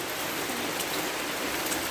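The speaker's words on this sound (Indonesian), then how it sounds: "ini emang cuacanya lagi hujan" Steady rain pours down with a dense, even hiss outside a cave at Pangandaran, close and continuous, with faint scattered drips and no voices.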